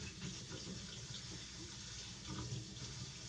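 Tap water running into a kitchen sink while dishes are washed and rinsed in one step, a steady faint splashing stream with no talk.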